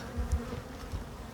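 Honey bees buzz steadily around an open beehive, a low continuous drone from many insects close by with small swells in loudness.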